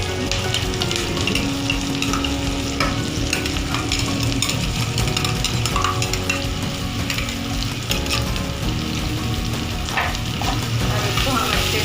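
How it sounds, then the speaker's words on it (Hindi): Masala paste frying in ghee with browned onions, a continuous close sizzle with scraping stirs and clinks of a spoon against the pan, steady throughout. "और इसको हम अच्छे से मसाले को भून लेंगे"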